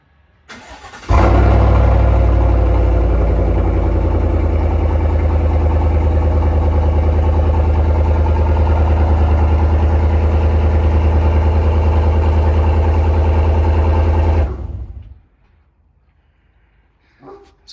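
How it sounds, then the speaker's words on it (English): A 2021 Chevy Silverado with a modified exhaust fires up from a cold-ish start and settles into a loud, deep, steady idle close by, rumbling for about thirteen seconds before cutting off abruptly. "I will go ahead and do a cold start with this, cold-ish start, so you can kind of hear what the exhaust sounds like"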